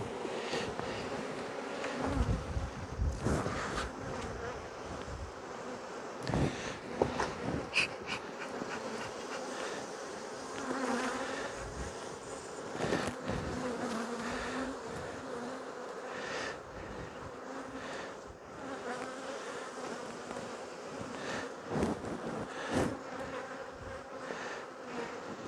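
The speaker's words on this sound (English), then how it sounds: "There's lots of bees." Dense swarm of honeybees buzzing continuously around an open hive during a hygienic behavior test, close and loud, with occasional individual bees droning past nearby.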